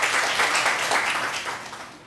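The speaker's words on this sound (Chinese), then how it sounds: "我们就热烈掌声欢迎一下我们黄老师" Audience applause welcoming a guest lecturer at an adult education teacher training seminar, a steady round of clapping from a roomful of people lasting about two seconds and tapering slightly at the end.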